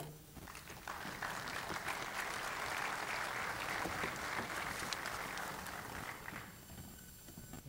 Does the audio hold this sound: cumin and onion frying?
no